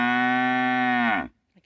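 A cow lets out one loud, close, sustained moo on a farm, holding steady before breaking off abruptly, with a brief faint sound after.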